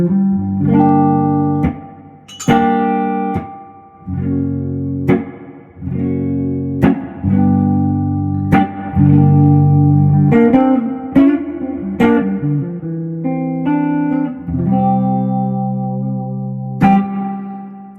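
Electric guitar played through a Flint reverb pedal into stereo amplifiers including a Fender Bassman, loud sustained chords and single notes ringing out with a lush reverb tail, no voices.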